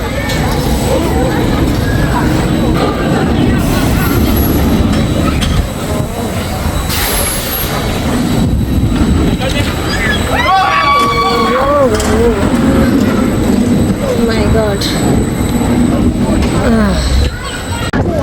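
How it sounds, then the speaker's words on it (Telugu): Roller coaster ride at Flamingo Land theme park in the UK, a steady loud roar of the train and wind with people screaming and someone talking over it. "ఇక్కడ చూడండి గిన్నిస్ వరల్డ్ రికార్డ్స్ రైడ్స్లో అనమాట రోలర్ కోస్టర్లో"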